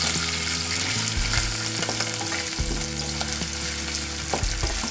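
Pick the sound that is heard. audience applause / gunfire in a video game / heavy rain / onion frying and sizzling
onion frying and sizzling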